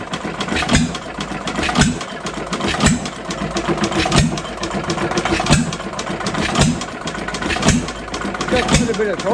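Fairbanks Morse 1.5 HP headless hit-and-miss stationary engine running, loud and close, with a steady rhythmic chuff and clatter of repeating firing beats throughout.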